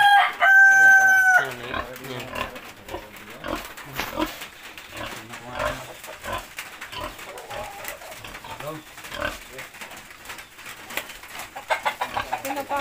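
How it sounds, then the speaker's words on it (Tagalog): A rooster crows loudly and close by at the start, one long drawn-out call, followed by people talking with other faint farmyard bird sounds and shuffling noises. "Pinapasok mo ang manok."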